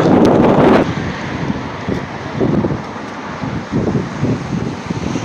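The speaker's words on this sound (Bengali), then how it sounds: "মারাত্মক হাওয়া দিচ্ছে, হাওয়ার এত প্রেশার ধরে থাকতে পারছি না" Strong wind during a snowfall on Iceland's south coast buffets the microphone in loud, roaring gusts, with a heavy blast at the start and rumbling surges throughout.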